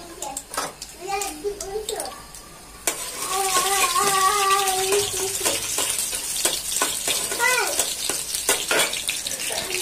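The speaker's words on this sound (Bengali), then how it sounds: "এখন রসুন দিয়ে দিচ্ছি, এখন রসুন দিয়ে একটু লাল লাল করে নেব ভেজে।" Garlic fries in oil in a pan, a steady sizzle that swells louder partway through, while an adult and someone talk over it.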